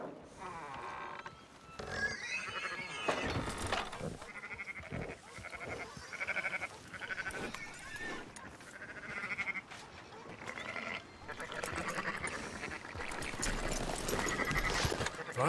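Several sheep in the video game Red Dead Redemption 2 bleat repeatedly, loud and close, in uneven bursts with short gaps between calls.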